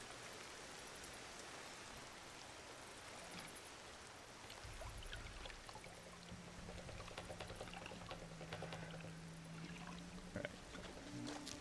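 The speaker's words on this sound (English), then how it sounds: "I want to drink some water, though." Water sloshing and pouring in the survival game Ancestors: The Humankind Odyssey, a steady watery wash that grows a little louder midway, with a low hum underneath and no talking.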